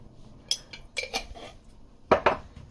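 A spoon scraping and clinking against a metal cooking pot while spices are stirred into a Sindhi butter methi palak dish, with three or four short, sharp metallic knocks and scrapes at close range and no talking.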